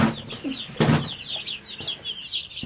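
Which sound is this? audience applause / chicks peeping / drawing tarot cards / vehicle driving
chicks peeping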